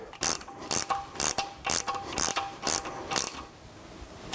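A ratchet winding down cylinder head nuts on a low-budget classic motorcycle restoration, about eight crisp rhythmic clicking bursts at a steady pace, loud and close, tapering off at the end.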